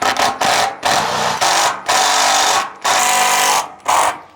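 A power drill drives self-drilling screws into ColorBond steel sheeting in repeated short bursts, each a loud whirring grind of about half a second, with brief pauses between screws.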